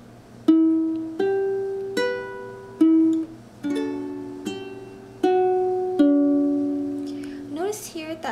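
A ukulele plays the opening measure of section B of a song, with a partial barre chord fretted by the index finger: a steady run of clear plucked notes and strums, close and alone.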